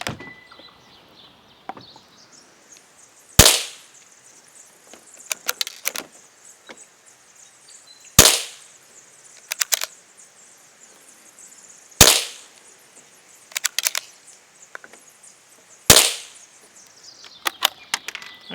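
Five sharp rifle shots are fired one at a time from a single magazine, spaced several seconds apart. Each loud, close crack is followed by lighter metallic clicks as the bolt is cycled, with a faint background hum and no talk.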